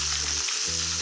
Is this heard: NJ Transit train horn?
no